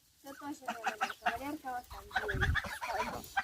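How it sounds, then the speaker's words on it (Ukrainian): Young goslings peep and chatter in soft, rapid high calls at close range, with a low rumble of handling noise partway through. "І гусики он як сусюкаються молоденькі."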